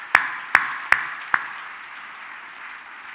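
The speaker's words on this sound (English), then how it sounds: "I think that deserves an applause for Kevin and Chris." Four sharp, evenly spaced hand claps ring out in a hall at a Kansas City crime commission law enforcement appreciation event, followed by a faint wash of scattered applause fading into room tone.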